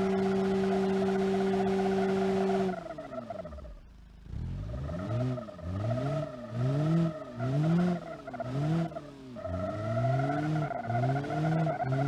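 A car engine in the BeamNG.drive driving game, shifted manually, over-revs in repeated rising and falling pitch sweeps after a steady drone and a brief lull, loud and close with no talking.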